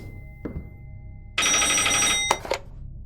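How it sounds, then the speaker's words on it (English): Telephone in the horror video game Palmyra Orphanage rings with a bright electronic trill lasting about a second, preceded by a faint click and followed by a short clatter. "Мне начали приходить звонки."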